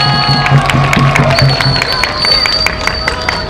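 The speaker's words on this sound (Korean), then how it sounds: "큰 박수 부탁드립니다." Crowd at an outdoor Busan protest rally applauding and cheering, a dense wash of clapping and voices that holds steady, with tonal music and a nearby voice over it.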